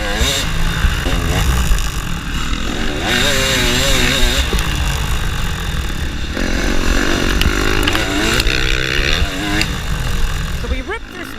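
A dirt bike engine revs and roars continuously through a harescramble race on a grass track, loud and close throughout, with someone talking over it.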